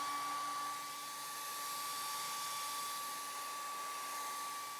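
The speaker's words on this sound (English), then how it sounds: "I'm going to blow dry it, and then we'll continue." A hair dryer blows steadily on a freshly painted watercolour, its continuous motor whine and airy rush holding nearly level for the whole stretch, close and alone.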